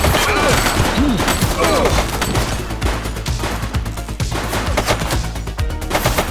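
Gunfire in the police game The Precinct crackles as a dense, loud burst of rapid shots, with sirens or whining tones and thuds mixed in throughout.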